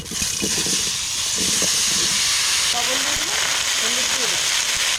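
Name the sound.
pumpkin added to hot kadai, sizzling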